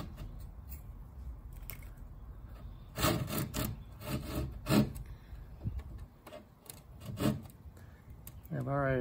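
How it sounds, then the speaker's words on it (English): Sandpaper rounds off the wooden stem of a Wharram Tiki 21 catamaran under construction, with several rasping rubbing strokes in uneven bursts, close and moderately loud, and a voice heard in places. "we'll round that off with some sandpaper so that the lashings won't hit each other"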